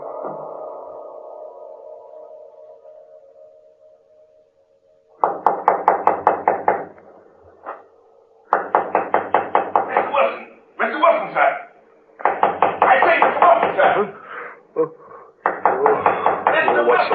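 A radio horror drama set at sea: a series of quick knocks on a door comes in several bursts after a fading low tone, fairly loud and close, with a voice speaking in the background.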